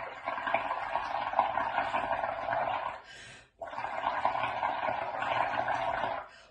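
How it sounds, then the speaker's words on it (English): Bubbles blown through a straw into a bowl of coloured water make a steady bubbling, gurgling burble, close and fairly loud, breaking off for a brief moment midway before resuming. "I'm going to blow bubbles."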